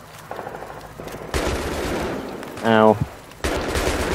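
Gunfire in the video game Battlefield 3, with bursts of automatic weapon fire and impacts in a co-op match, one sharp rapid rattling burst standing out, with a player voice briefly reacting over the din.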